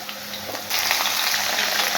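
Potatoes and brinjal frying in hot oil with cumin, a hiss that jumps suddenly louder partway through as pieces hit the pan, then a steady broad crackling sizzle up close with no voices.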